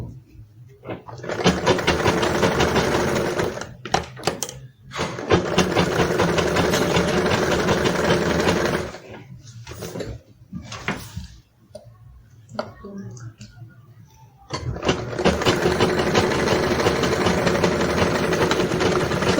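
A sewing machine stitches fabric for a Yoruba iro and buba outfit, running in long steady bursts of rapid mechanical clatter, pausing for a few seconds of quieter handling, then starting again, with a voice heard during the pause.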